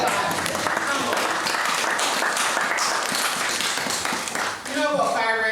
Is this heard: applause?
yes